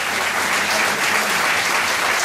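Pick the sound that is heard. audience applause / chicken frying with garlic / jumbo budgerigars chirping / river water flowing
audience applause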